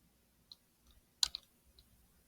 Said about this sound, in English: I'll click on the backspace key